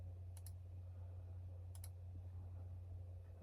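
Two quick double clicks of a computer mouse, each a sharp, close pair of taps, sound faintly over a steady low hum.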